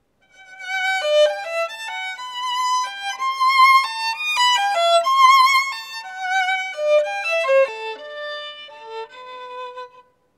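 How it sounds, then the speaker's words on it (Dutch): A solo violin plays a cheerful, curious theme for Alice in Wonderland, a lively melody of quick bright notes and leaps, close and clear with no talking. "En dan klinkt dat zo op mijn viool."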